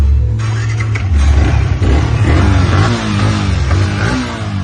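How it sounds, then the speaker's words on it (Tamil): A Yamaha R15 v3 motorcycle engine, just rebuilt after a full restoration, starts and revs loudly up close, its throaty roar rising and falling in steady surges with no talk over it. "இந்த வண்டியை இன்ஜின் அண்ட் மெக்கானிக் ஒர்க் எல்லாத்தையும் முடிச்சுட்டு ஸ்டார்ட் பண்ணி காட்டுறேன்"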